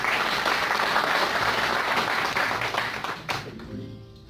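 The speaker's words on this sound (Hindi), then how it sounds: "श्री जमुना प्रसाद जी का जोरदार तालियों से स्वागत करें" An audience at a community organisation gathering gives a loud, dense round of applause welcoming a guest, sustained for about three seconds before quickly dying away.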